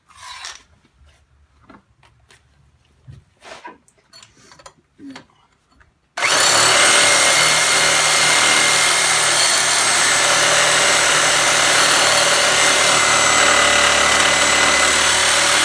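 A reciprocating saw cuts into a shock absorber on an S10 pickup during a solid axle swap, a loud steady buzzing drone starting abruptly after several seconds of quiet clanks and handling noises.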